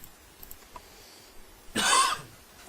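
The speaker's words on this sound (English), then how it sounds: "Sorry for that, don't mind the cough." A single short, raspy cough bursts out close by after a few quiet seconds, then fades.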